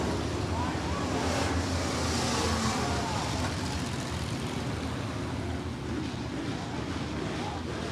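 USRA B-Modified race cars rumble around Rapid Speedway as they line up before a green flag, a steady broadband engine roar with wind-like noise throughout, and speech partly mixed in.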